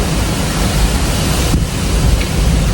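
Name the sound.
strong wind before a storm outdoors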